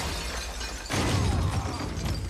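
Glass shatters during a violent fight scene in an action film, a sudden loud crash with scattering fragments following a quieter lead-in.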